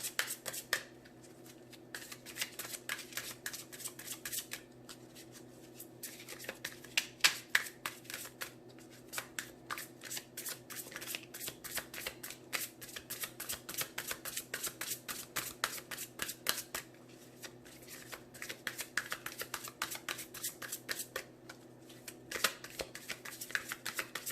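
A deck of oracle cards being shuffled and cut by hand, a long run of rapid crisp riffling flutters in bursts with brief pauses, close and fairly quiet, no talking.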